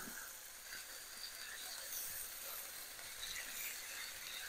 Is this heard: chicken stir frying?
yes